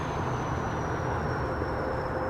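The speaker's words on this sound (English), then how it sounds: "a plane just went roaring by" An airplane passes overhead with a loud, steady broadband roar that fills the whole stretch without easing off, and no voices are heard.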